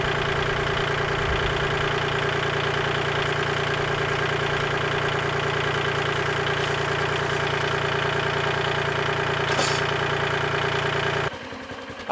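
A sawmill engine runs steadily while milling lumber, a constant loud droning hum with no breaks until it drops in level near the end.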